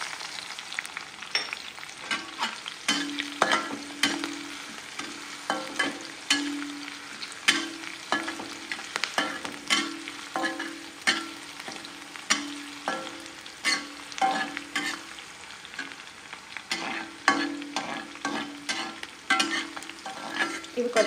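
Green chilies and garlic fry in a pan for ridge gourd chutney, a steady sizzle running throughout with frequent rhythmic scrapes and taps of a stirring spoon, close and moderately loud, with no voices.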